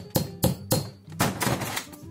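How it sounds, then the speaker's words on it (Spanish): A hammer taps a rivet set on a metal base while a keychain is being made, with a series of sharp knocks, three evenly spaced, then a quicker cluster of lighter blows, close and alone. "lo colocamos sobre una base de metal y le damos golpes con el martillo bien despacito"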